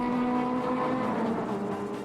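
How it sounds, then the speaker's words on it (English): BMW M3 GTR race car with its 4-liter V8, a steady sustained engine drone held at near-constant pitch, loud and close, with no voices. "This sports car was equipped with a 4-liter V8 engine and brings the strength of 450"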